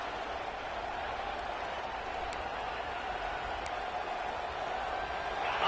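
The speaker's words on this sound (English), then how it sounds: "with this place rocking, the crowd forces a false start" Stadium crowd in a college football video game, Florida Gators against Oregon, a steady broadband roar holding at an even loud level throughout and swelling slightly at the end, with no talk over it.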